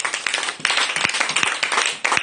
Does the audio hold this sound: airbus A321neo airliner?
no